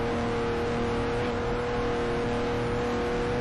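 A front-engine, rear-wheel-drive car's engine accelerates in the Speed Dreams racing video game, a steady loud whirring drone with a constant tonal hum, no talking.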